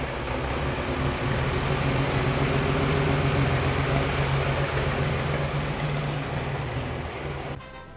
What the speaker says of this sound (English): take us out in his 1917 Fiat Road Rocket